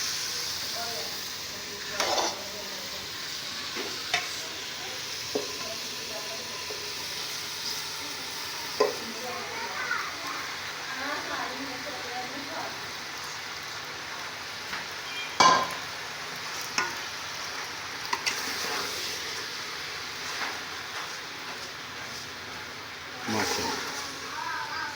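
A macaroni dish with chicken and vegetables fries and sizzles in a pan as it is stirred, a quiet steady hiss with scattered scrapes and clinks, faint talk at moments.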